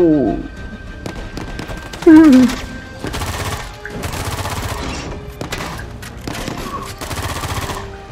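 Soldiers firing guns in Uncharted 4, rapid bursts of automatic gunfire and single shots crackling repeatedly throughout, close and loud, with someone talking excitedly over the shooting.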